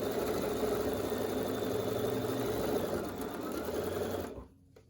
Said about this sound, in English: As I stitch along, I'm trying to stay right in the ditch of this seam